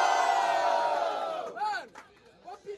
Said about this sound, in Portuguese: Diferentemente, barulho pra quem gostou das rimas de Daishin